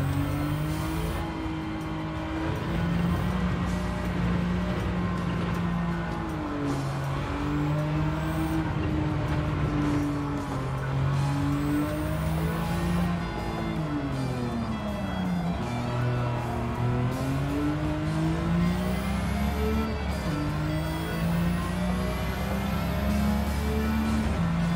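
Gran Turismo 7 race cars roar in the game as the player's car tries to pass a field of rivals on a straightaway. A loud, continuous engine drone climbs and dips in pitch through shifts, with other engines layered close around it.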